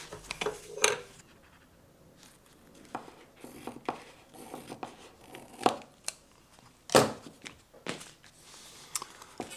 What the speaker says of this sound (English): We're going to mark it, and we're going to cut it right here.